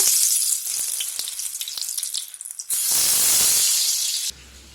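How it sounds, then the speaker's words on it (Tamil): Soya chunk chilli pieces deep-frying in hot oil give a loud, steady sizzle and hiss that swells sharply partway through, then drops to a quieter bubbling with a low hum near the end. "சில்லியையும் எண்ணெயில் போட்டு எடுத்துடலாங்க"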